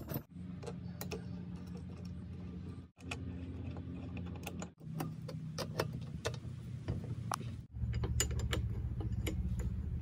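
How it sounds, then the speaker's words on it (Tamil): Bolts are fitted and tightened as a fork goes onto a mini bike chassis: repeated sharp metallic clicks and ratcheting ticks over a steady low hum, close and moderately loud, with brief pauses between bursts. "இதை நம்ம சேஸ்க்கு உள்ள விட்டு போல்டை போட்டு நல்லா டைட் பண்ணிக்குவோம்"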